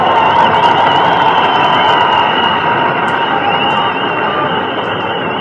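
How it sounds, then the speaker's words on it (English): Steady, dense applause and cheering from a large crowd at the 1996 Canadian Formula One Grand Prix in Montreal, continuous and fairly loud throughout with no clear breaks. "You can hear the applause of the crowd."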